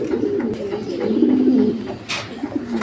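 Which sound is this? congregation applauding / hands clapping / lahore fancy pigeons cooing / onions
lahore fancy pigeons cooing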